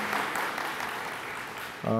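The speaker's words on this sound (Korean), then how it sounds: "네, 박수로 여러분 환영해 주시기 바랍니다." Church congregation applauds to welcome a missionary pastor couple, a steady wash of clapping for nearly two seconds before a voice with a sustained tone cuts in at the end.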